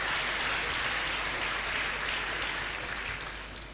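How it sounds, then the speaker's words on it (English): Applause from the audience at an academic lecture, a broad steady wash of clapping with a low hum underneath, easing off slightly toward the end. "I think we should give her a round of applause."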